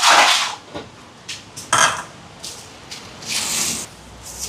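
Chicken biryani marinade of yogurt and ginger-garlic paste being stirred in a pot, with wet squishing scrapes and clinks of a spoon in irregular bursts, close up, no talk.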